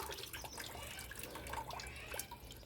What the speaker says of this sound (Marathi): तुळसला पण टाकते थोडंसं पाणी